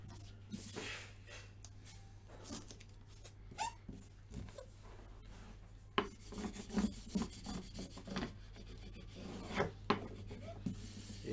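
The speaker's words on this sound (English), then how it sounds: "just burnishing that down so that it's nice and secure" Adhesive tape is rubbed and burnished down onto the back of a picture frame on a rubber-topped bench, giving quiet, close, irregular scraping and rubbing strokes that grow more frequent toward the end.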